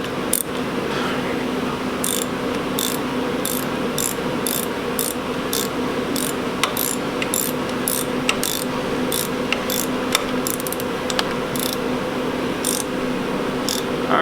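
A socket ratchet tightens a diesel injector on a Fordson Major tractor, a run of quick, sharp clicking strokes repeating close up at an even rhythm over a low background hum.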